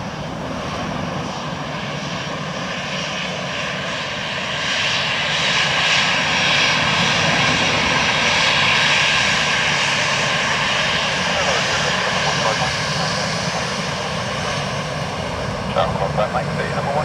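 A Scandinavian airliner lands on runway 28 left at Dublin Airport, its engines a steady broadband roar that swells toward the middle and holds, heard from a distance with voices talking underneath.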